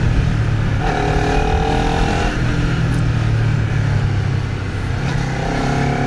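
Steady loud engine drone of a Honda CBR250RR sport motorcycle riding at speed, with shifting tones as the revs rise and fall, plus wind rush.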